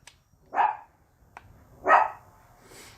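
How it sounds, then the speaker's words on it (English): Dogs bark twice indoors in a home during game setup, two loud, separate woofs about a second and a half apart, with quiet in between. "And hence the dogs are barking."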